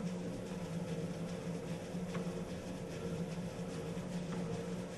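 An electric stand mixer hums steadily on stir speed while it mixes pizza dough, giving a constant low motor drone with faint rhythmic knocking and no talking.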